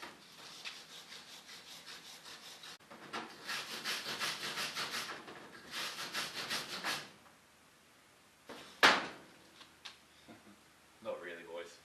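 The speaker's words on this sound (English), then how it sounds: "we're going to get stuck in with the wire brush and see how good they can come up" Wire brush scrubbing corrosion off engine valves during home valve lapping, heard as bursts of close, rhythmic rasping strokes separated by pauses, with a sharp clatter partway through.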